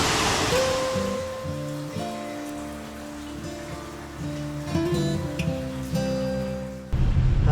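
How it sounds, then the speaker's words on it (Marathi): The Savdav waterfall near Kankavli in the Konkan region gives off a continuous rushing wash of falling water, heard beneath music playing throughout. "हा आहे सावडावचा धबधबा"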